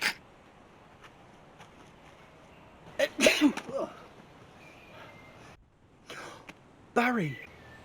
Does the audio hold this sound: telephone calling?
no